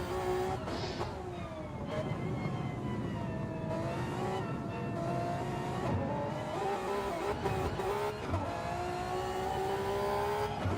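Honda NSX GR3 race car heard onboard on the Nürburgring Nordschleife, its engine droning loudly and steadily while rising and falling in pitch through repeated gear changes and acceleration.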